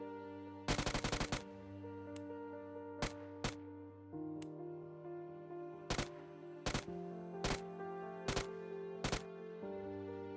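UMP45 submachine gun in the PUBG video game, a 9mm SMG with single, burst and auto modes, fires a quick burst followed by several separate single shots and short bursts over a steady tonal game backdrop.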